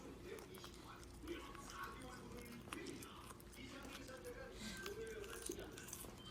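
A Welsh corgi puppy chews a carrot, with soft crunching, squishing bites close by against a quiet room, while a person talks softly in the background.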